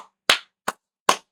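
Three separate sharp hand claps, fairly close and loud, spaced unevenly with silence between them and no talking.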